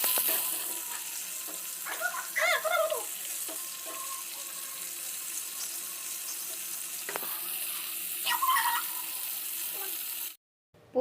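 Chicken popcorn pieces frying in hot oil in a wok give a steady close sizzle, with a few brief scraping stirs and clinks breaking through the bubbling.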